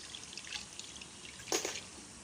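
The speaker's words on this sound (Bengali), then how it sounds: "এবার জল ঢেলে দিলাম" Water is poured over sautéed potatoes in a pan for an egg curry: a faint, quiet trickle with a brief splashing gush midway, heard close with no talking.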